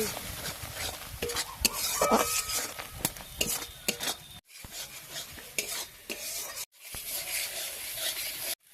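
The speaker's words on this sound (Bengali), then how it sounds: "এবার আমি একসঙ্গে মশলাগুলো কষে নেব।" Turmeric and chili powder being stir-fried in oil in a pan for a fish curry. A spoon scrapes close and continuously with soft sizzling underneath, broken by two brief silent cuts.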